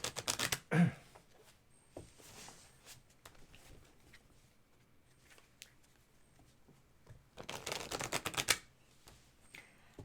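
Tarot cards being shuffled close up in quiet, with a sharp riffle burst at the start and a longer run of crisp riffling near the end, separated by soft handling sounds.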